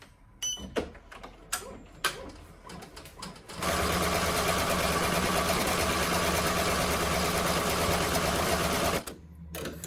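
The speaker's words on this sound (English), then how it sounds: "We're going to put it back on the machine. We're going to stitch our satin stitch." An embroidery machine stitching a satin stitch on an in-the-hoop coaster runs in a loud, steady, close mechanical whir for about five seconds, framed by scattered clicks and handling knocks before and after.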